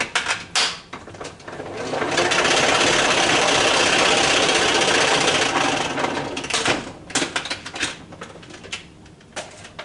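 A salad spinner whirring with freshly harvested, washed celery inside, a loud rising spin that holds steady for a few seconds and then winds down into rattles and clicks.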